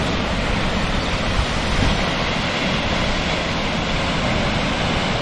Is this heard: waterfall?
yes